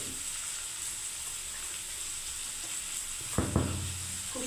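Onions frying in a pan give a steady close sizzle throughout, with a short clatter of stirring or utensil knocks near the end, no talking.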